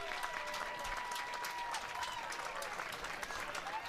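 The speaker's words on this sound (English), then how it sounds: "gets a round of applause from the Chatham supporters" Chatham supporters at a Cape Cod Baseball League game against Harwich applaud a diving catch in right field that ends the eighth inning, a steady wash of distant crowd clapping that holds through the whole stretch.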